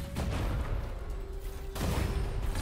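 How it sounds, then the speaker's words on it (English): Grenades go off in the shooter game Gunfire Reborn, producing two muffled booming bursts with a dense low rumble between them, fairly close and not very loud, with no talk. "we get to throw two grenades every time we throw a grenade"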